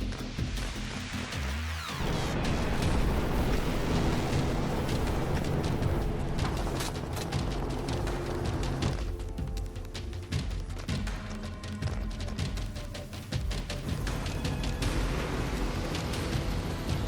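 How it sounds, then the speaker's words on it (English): Rapid gunfire from a helicopter aimed at wild boars over an open field, dense rattling bursts layered over a constant heavy roar for the whole stretch, steady and loud without pause. "Rapid gunfire erupts from the helicopter."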